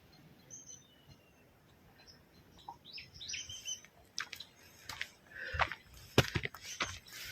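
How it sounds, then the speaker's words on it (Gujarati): Small birds chirp and tweet on a foggy hillside in the morning, with scattered faint calls and brief trills in quiet open air, plus a few soft knocks near the end. "પક્ષીનો અવાજ સાંભળો"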